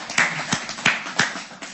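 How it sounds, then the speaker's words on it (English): A small group claps in a room, with about five sharp, separated hand claps coming at an uneven, slightly sparse rhythm, close and moderately loud. "Can you give a round of applause to Earl?"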